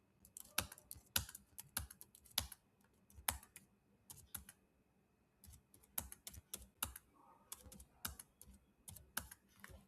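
Typing on a computer keyboard while entering data into an Excel spreadsheet, with close, crisp key clicks in irregular quick bursts separated by short pauses, quiet overall and with no talking.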